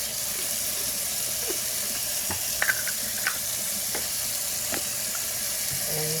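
Water trickles and drains steadily from the ink nozzle of an Epson EcoTank 15000 printer being converted to eco-solvent ink, a continuous close wash with a few faint splashes and clicks.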